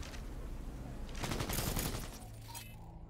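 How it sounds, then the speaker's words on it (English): Gunfire from a sniper rifle in the video game Cyberpunk 2077: a dense burst of loud, overlapping shots swells in the middle and fades away, with steady game ambience before and after. "Let's try the sniper rifle."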